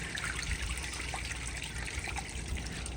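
A 1954 Standard Chinal stall urinal flushes at full pressure, giving a steady, continuous rush and trickle of water that runs evenly from start to finish without pause, fairly close and alone.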